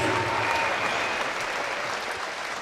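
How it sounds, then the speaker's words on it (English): Steady applause from the crowd at a girls' high school regional championship basketball game fills the gym with dense, continuous clapping that holds loud from start to finish and fades only slightly at the end. "Let's give them a big round of applause, please."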